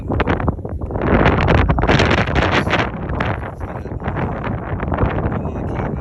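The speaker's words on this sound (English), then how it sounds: "I know it's windy." Strong wind buffets the microphone outdoors during a metal detecting outing, a loud, continuous broadband rumble and roar that never lets up, with no clear talk.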